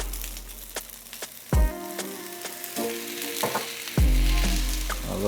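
Fish sauce hits rice frying in a hot pan, bursting into loud, close sizzling with sharp hisses twice, then steady crackling and stirring clatter as the rice is tossed.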